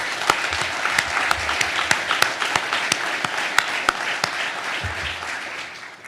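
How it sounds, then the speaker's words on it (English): A hall audience at a US Navy talent pipeline signing day breaks into sustained applause, dense steady clapping with a few sharper individual claps standing out, loud and continuous before easing off at the end. "All of you deserve a round of applause."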